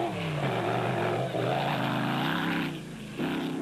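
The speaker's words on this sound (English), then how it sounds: "That six-liter Chev engine does sound mean, though." A six-liter Chevrolet engine in a rally car at the 2008 Sugarbelt 400 rally drones loudly and steadily, pitch shifting as it revs, then briefly dips before surging again.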